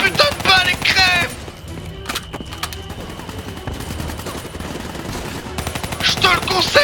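Call of Duty gunfire rattles in fast automatic bursts and single sharp shots, loud and close, between stretches where a voice talks excitedly over the game.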